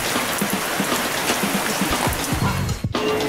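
Steady rain hisses and patters at a tram terminus, a dense close wash of falling water with a few brief low knocks and a short dip near the end.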